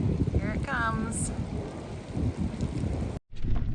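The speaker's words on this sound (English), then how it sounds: "it's raining over there, and it might start raining over here." Rain and a thunderstorm roll in over Colorado's Lost Creek Wilderness, a steady wash of rain with a low rumbling undertone filling the clip. A voice is heard briefly, and the sound drops out for a moment near the end.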